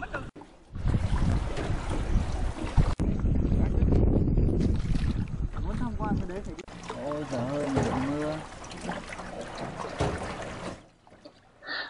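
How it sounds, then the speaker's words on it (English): Rowboat rowed by a local woman up a limestone stream in Vietnam, with splashing oar strokes and water wash against wind noise, and voices talking over parts of it. "You rowed up the stream about a mile, typically by a wiry local woman"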